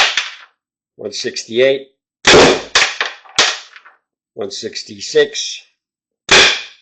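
Tippmann TiPX paintball pistol firing cheap paintballs, giving several sharp, close pops spaced a second or two apart, with someone talking between and around the shots.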